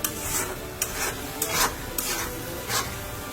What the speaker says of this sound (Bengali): এখন এটাকে আমরা অনেক ভাজবো, একদম ভালো করে ভেজে তারপরে মাংসটা দিব